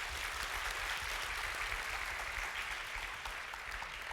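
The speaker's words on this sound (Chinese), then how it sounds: "大家是不是再给他一个掌声啊？" An audience claps at a mechanical engineering master's thesis award ceremony, a dense, even burst of applause that carries on steadily throughout, fairly faint and with no talking over it.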